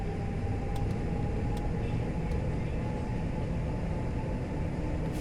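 Airbus A380 jet engines spooling up in a flight simulator game, a steady broadband roar with a faint whine that holds at an even level, joined by a few brief clicks.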